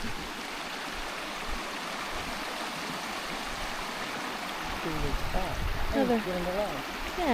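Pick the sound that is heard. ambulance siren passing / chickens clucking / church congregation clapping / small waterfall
small waterfall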